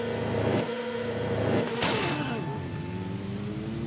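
Motorcycle engines rev in a TT Isle of Man racing game as the race starts, a steady mid-pitched engine drone with a sharp rise in revs partway through, continuous and fairly loud.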